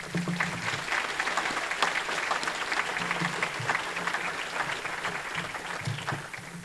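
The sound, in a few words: audience applause for Hall of Fame inductees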